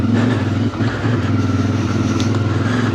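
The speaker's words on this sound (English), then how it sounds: "Second gear throttle does seem a little snatchy" A CF Moto IBEX 450 motorcycle rides off road in second gear, its engine a loud, steady drone close to the microphone with slight throttle surges and no voices.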